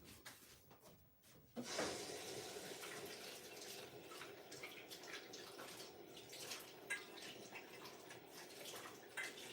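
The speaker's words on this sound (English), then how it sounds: "Okay, this plate here, let me rinse it off." Water runs steadily from a kitchen tap as a plate is rinsed under it, a continuous close splashing hiss that starts abruptly after a brief clatter.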